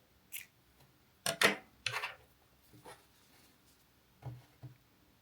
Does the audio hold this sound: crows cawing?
no